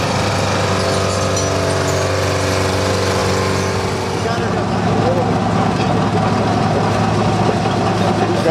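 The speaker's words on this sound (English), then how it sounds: "Here comes a Hydro Axe, old bottle, 411B with a 453 Detroit diesel in it." Hydro Axe 411B forestry machine with a 453 Detroit diesel engine runs steadily up close, a loud, low droning engine note with a constant rumble, and the pitch and texture shift partway through as it moves.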